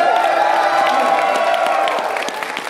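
Sustained crowd noise of cheering and applause rises for sumo wrestler Biamba at a convention exhibition, a steady, loud roar with clapping that stays even and fades slightly at the end.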